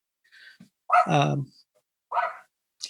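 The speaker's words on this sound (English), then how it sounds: "Dogs barking." A dog barks a few times in short, separate bursts, fairly close, with quiet gaps between the barks and no other sound.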